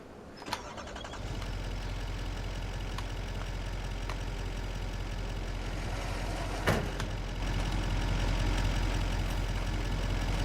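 A tractor engine in Farm Sim 25 starts with a brief crank, then settles into a steady, close, low idling rumble that grows slightly louder toward the end.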